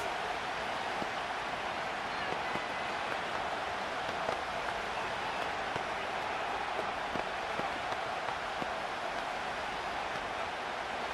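A dense, steady roar comes from a stadium crowd in Madden 26 football during a late fourth-quarter Bills versus Dolphins game. The noise stays loud and continuous for about eleven seconds, with faint claps and pops scattered through it.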